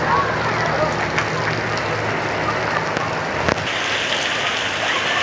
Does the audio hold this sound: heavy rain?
yes